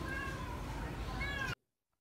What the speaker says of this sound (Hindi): वो इसको बिल्ली के बच्चे को फीडर से दूध पिला रहा है।